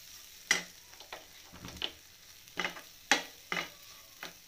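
A spoon scrapes and stirs Rajasthani onion kachori filling with coriander in a hot pan, in repeated distinct strokes over a soft sizzle.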